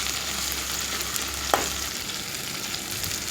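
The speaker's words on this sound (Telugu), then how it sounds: "అల్లం పేస్ట్ అనేది ఆయిల్లో బాగా మగ్గినాక కొంచెం కరివేపాకు వేయాలి." Onion, ginger paste and curry leaves sizzle in hot oil, a steady hiss with one sharp stirring scrape in the middle.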